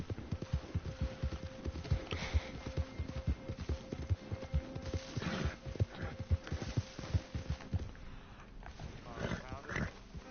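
Hoofbeats from a horse in Red Dead Redemption II patter in a fast, even rhythm for about ten seconds, close and steady over a low ambient background.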